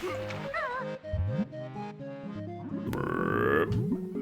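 A short, gurgling cartoon burp from Kazooie in the Banjo-Kazooie video game cuts briefly through cheerful background game music.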